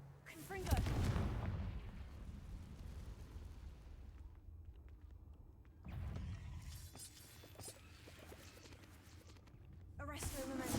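Confringo blasting-spell explosions in a Harry Potter video game: loud blasts near the start, around six seconds and again at the end, with crackling debris between.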